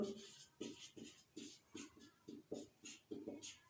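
Chalk strokes on a board during a maths lesson on profit and loss: about a dozen short, scratchy taps and scrapes in an uneven rhythm, quiet and close, with no clear talking.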